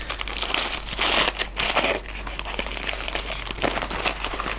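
Tape and packing material are handled while orchids are unboxed, giving close, continuous crinkling and crackling with short bursts of rustle throughout and no talking.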